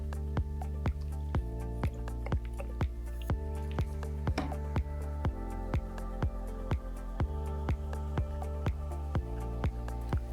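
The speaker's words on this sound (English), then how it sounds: "The solvent pretty much drips everywhere. So I'm just going to use an old drip tray," White spirit solvent drips into an old drip tray while a golf club grip is being replaced, a steady series of sharp, evenly spaced drips landing close by, with no talk.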